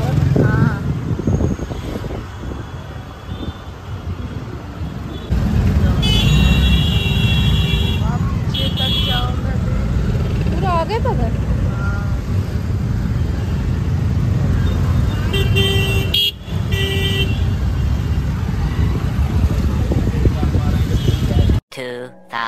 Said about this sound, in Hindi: इतना ज़्यादा ट्रैफिक था